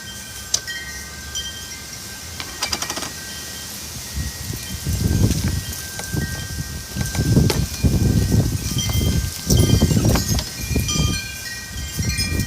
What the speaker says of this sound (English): This is the New York backyard scene.